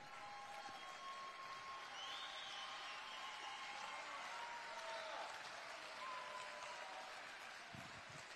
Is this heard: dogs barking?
no